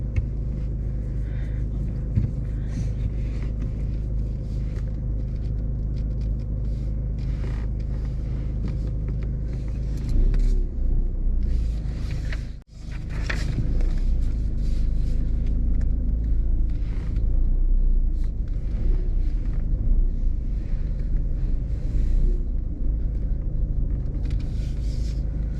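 Car backing out of a car park space during a driving test, a low steady engine rumble close by that briefly drops out midway before resuming as the vehicle moves off.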